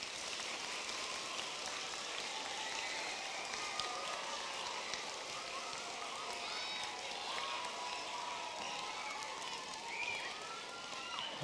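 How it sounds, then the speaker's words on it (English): Audience applause practice at an elementary school music festival: a dense, steady wash of many hands clapping together, sustained and even for the whole stretch, with no voices rising above it. "Let's hear you clap, let's practice."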